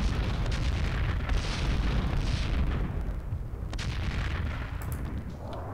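Slowed-down bullet-time explosions rumble in the video game Max Payne 2, a heavy continuous low boom that rolls and gradually fades, loud and without talk.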